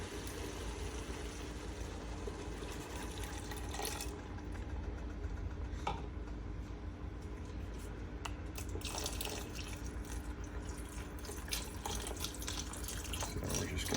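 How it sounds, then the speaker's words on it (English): Beef stock poured into a pot for Japanese curry, a steady near stream of splashing liquid that runs for the whole stretch, with a few sharper splashes and clinks from the pot. "So we're just going to pour all that in."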